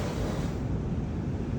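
An automatic car wash sprays water over a car as its mechanical arms move in, making a steady, loud, broadband rushing hiss that fills the whole moment without a break.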